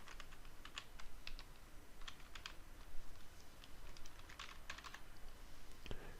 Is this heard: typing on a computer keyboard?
yes